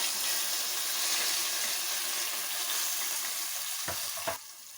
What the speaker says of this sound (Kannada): ಸ್ವಲ್ಪ ನಾನು ಹುಣಸೆ ಹುಳಿನ ಜ್ಯೂಸ್ ಮಾಡಿಕೊಂಡಿದ್ದೆ, ಅದನ್ನು ಇದಕ್ಕೆ ಹಾಕ್ತೀನಿ